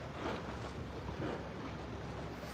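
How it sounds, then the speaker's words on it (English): Waves crash against rocks beside a fishing pier on a windy day, a continuous rushing roar mixed with gusty wind buffeting the microphone, with no voices over it. "You can probably hear the waves in the background crashing on the rocks."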